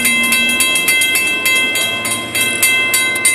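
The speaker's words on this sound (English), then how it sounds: "The train should be coming." An FEC train draws near a Fort Lauderdale grade crossing, its rumble and rail clatter loud and steady under a ringing crossing bell with rapid repeated dings.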